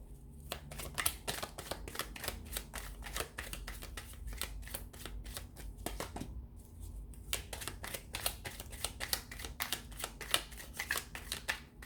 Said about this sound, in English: So we'll give the cards a shuffle and see what's coming up for you guys